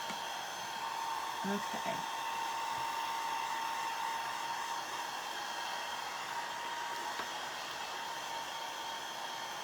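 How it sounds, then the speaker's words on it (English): A heat tool blowing hot air for crafting a farmhouse snowman tier tray, a steady, even whoosh with a faint whine that runs the whole time, while a voice briefly speaks at low level. "I'm going to turn on the heat tool"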